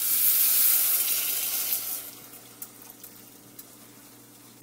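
Broth pours into a hot pan of toasting rice for Spanish rice pilaf, a loud hiss of sizzling that fades over a few seconds into softer bubbling and occasional small pops, close and alone.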